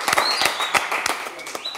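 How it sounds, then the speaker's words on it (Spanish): Audience applause at a live music show, Transnacional en Vivo: a dense, steady patter of many hands clapping throughout, with sharper bursts standing out now and then. "Aplausos para los cabros protagonistas de Transnacional en Vivo"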